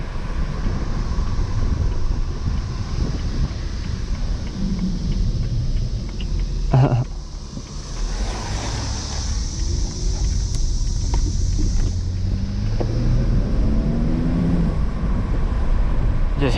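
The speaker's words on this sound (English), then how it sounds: "I love the sound of this inline 6 BMW makes" A 2008 BMW 328xi E90 with an inline-six engine is driven along a road. A low engine drone climbs in pitch as the revs rise, partly buried under heavy wind buffeting and road rumble.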